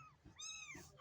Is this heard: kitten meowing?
yes